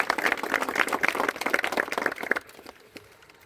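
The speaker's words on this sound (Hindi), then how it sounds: "एक बार जोरदार तालियां आप सभी के" Audience at a retirement function claps loudly and densely for about two and a half seconds, then the applause stops abruptly, leaving a faint room tail.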